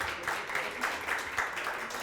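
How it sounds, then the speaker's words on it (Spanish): An audience at a cultural talk in Teotihuacán applauds with steady, moderately loud clapping that fills the room evenly for the full two seconds. "La recibimos con un aplauso"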